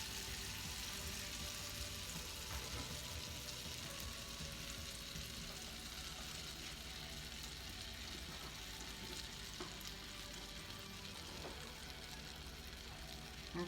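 A whole stick of butter melts and sizzles in a pan for an apple pie filling, a steady, dense crackle that stays even and fairly loud throughout with no voices over it.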